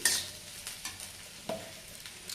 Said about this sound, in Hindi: इस तरह से प्याज को हिलाते रहेंगे बीच बीच में।